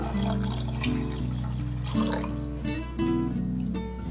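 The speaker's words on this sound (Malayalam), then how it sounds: "ഇനിയിപ്പോൾ നമുക്കിതിൽ ഒരു 3 കപ്പ് വെള്ളം ഒഴിച്ചു കൊടുക്കണം." Water pours into a cooking pot for oats upma, a running, gurgling stream with a ringing, tonal quality that shifts in pitch as the pot fills, moderately loud and continuous.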